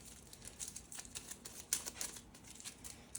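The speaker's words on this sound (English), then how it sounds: "let's shuffle these up and see what we get" Battlestar Galactica board game cards shuffled by hand, a soft papery riffle and crinkle of card stock, quiet and close, with no talk over it.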